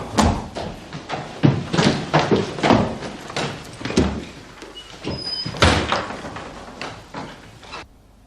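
A heavy door slams shut with a run of loud thuds and bangs, then a lock clatters, all close and forceful, with a raised voice briefly in the background.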